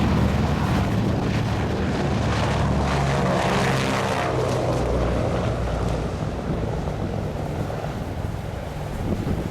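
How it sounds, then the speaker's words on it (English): At an air show, a Super Constellation propeller airliner takes off with a loud, continuous drone of piston engines and propellers, heavy with wind buffeting, swelling and then slowly fading as it climbs away. "as we watch the Super Constellation take off and turn for fantastic engines once again"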